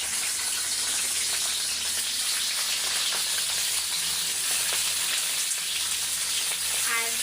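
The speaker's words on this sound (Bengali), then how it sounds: "আমি কিন্তু এখন বেগুন আলুটা ভেজে নেব, একটু হালকা করে তেলটা গরম করে নিলাম।" Eggplant and potato pieces fry in hot oil for a Bengali home-style koi fish curry, giving a steady, loud sizzle and crackle that runs unbroken throughout with no talking.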